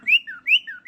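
A pet cockatiel whistles a car-alarm imitation, two clear rising-then-falling whistle phrases repeated back to back, loud and close with no talking.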